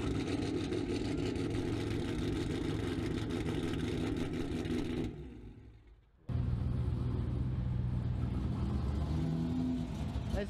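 A Dodge car engine runs steadily with a loud, close rumble; it drops out for about a second midway, then fires straight back up and settles into an idle.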